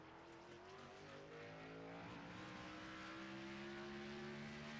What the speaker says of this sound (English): Heavy braking, heavy downshifting.